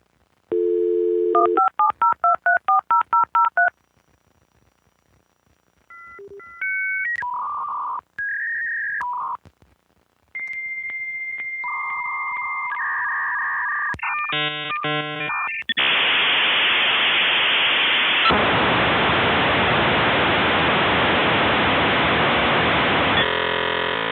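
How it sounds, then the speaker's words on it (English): A dial-up internet modem connects: a dial tone, rapid touch-tone dialing, then a sequence of warbling handshake tones and squeals ending in a long loud hiss of static, all alone and close. "I could hear the modem sound in my head"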